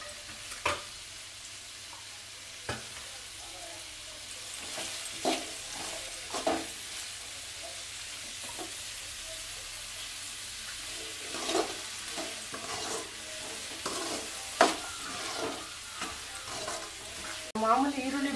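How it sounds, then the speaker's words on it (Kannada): Ginger, onion and garlic frying in oil, a continuous soft sizzle with repeated stirring scrapes and occasional utensil clicks throughout, close-miked and moderately quiet. "ಈಗ ಇದ್ರ ಜೊತೆ ಶುಂಠಿನೂ ಸಹ ಹಂಗೆ ಎಣ್ಣೆಲಿ ಫ್ರೈ ಮಾಡಿಕೊಂಡ್ರೆ ಅದ್ರ ಹಸಿ ವಾಸನೆ ಹೋಗುತ್ತೆ"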